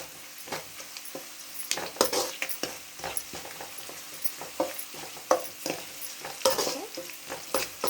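Onions fry in oil with turmeric and salt for a ridge gourd curry, a steady sizzle under repeated close scrapes and clinks of a spoon stirring the pan.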